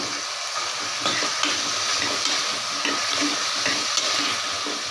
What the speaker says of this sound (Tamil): எல்லா காயும் போட்டு நம்ம வதக்கிடலாம்